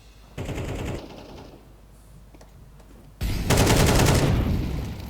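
Automatic gunfire in the shooter game Counter-Strike 2 arrives as a short, loud burst, then a quiet gap with faint clicks, then a longer, louder sustained burst of rapid fire.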